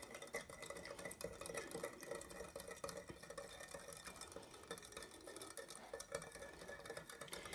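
A spoon stirs sugar with a little vinegar to dissolve it for pickle brine, a faint, steady scraping and clinking against the pot that runs on with no speech.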